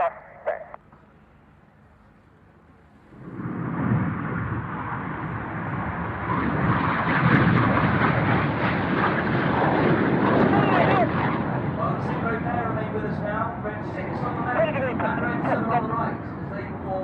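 Korean Black Eagles jet aircraft fly a close formation display at the Royal International Air Tattoo, their roar building suddenly and staying loud and sustained, with a public-address commentator talking over it.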